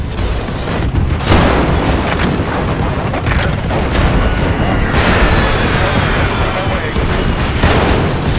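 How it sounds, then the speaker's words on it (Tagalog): Explosions from an air attack in the War Commander strategy game rumble and burst in dense, continuous succession, loud and close throughout. "pagka ginamita ko siya ng aeroplano, sabog agad"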